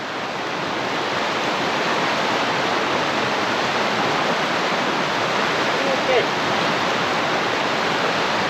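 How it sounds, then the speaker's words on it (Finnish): A river flows below a forest trail in Finnish wilderness, a loud, continuous broadband rush of water that holds steady throughout without a break. "Joki virtaa tuossa allalla"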